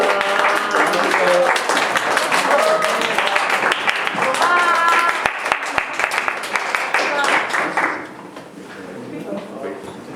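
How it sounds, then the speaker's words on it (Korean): A youth church congregation applauds to welcome the new chair of the youth arts committee, clapping filling most of the stretch with voices mixed in, then thinning out near the end. "함께 박수로 환영해 주시고"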